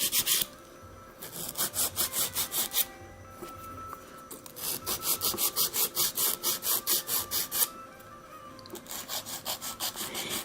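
Acrylic nail being filed and shaped by hand, a repeated rasping rub in quick rhythmic strokes, close and steady, in bursts separated by brief pauses.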